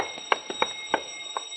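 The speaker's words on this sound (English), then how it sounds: "Hey, robbery alarm, Dan." A burglar alarm wired to a loan company office safe rings steadily, a thin high electric tone with faint irregular clicks and taps beneath it, fairly quiet and without voices.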